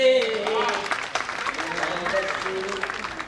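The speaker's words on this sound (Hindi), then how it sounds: "ध्यान से सीधे सीधे आगे तालियां बजाते रहिएगा" An audience applauds at a Hindi poetry gathering held for a Holi celebration, with steady clapping continuing under a prominent voice that speaks or recites over it.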